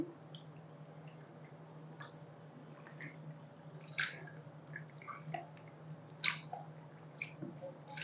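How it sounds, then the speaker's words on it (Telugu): Tamarind pulp being squeezed and strained by hand without removing the fibrous bits, soft wet squishing and dripping in scattered bursts, quiet and close over a steady low hum. "ఫ్రెండ్స్ చింత చింతపండుని బెరళ్ళవి లేకోకుండానే వడకట్టుకుంటున్నానండి"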